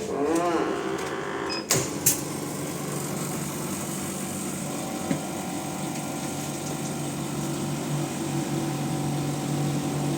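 A vacuum sealing machine runs with a steady, close mechanical drone and pump hum, preceded by a short spoken remark and a couple of sharp clicks near the start.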